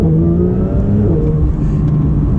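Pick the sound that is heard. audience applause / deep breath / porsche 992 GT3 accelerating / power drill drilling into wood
porsche 992 GT3 accelerating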